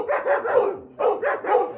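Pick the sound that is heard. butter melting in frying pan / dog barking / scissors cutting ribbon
dog barking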